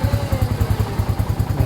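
A diesel-fuelled motorcycle engine running close by, a rapid pulsing low-pitched chug with rhythmic mechanical clatter, loud and steady throughout.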